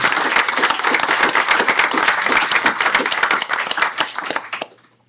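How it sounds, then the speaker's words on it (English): A room full of people at a city council meeting gives medalists a round of applause, dense hand clapping that holds strong for about four seconds before quickly fading out. "offer a round of applause to them for the tremendous job"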